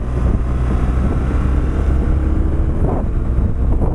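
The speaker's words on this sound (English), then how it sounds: "I can hear the wind rattling through the helmet a lot more" Wind roars and rattles through a motorcycle helmet while riding in Portugal with no earplugs in, a loud, constant low rumble with no letup.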